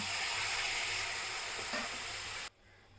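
A loud, steady hiss of frying spices in a vegetarian Bengali pea curry flares as a spoonful of hot water goes in, then cuts off abruptly, leaving a faint low simmer.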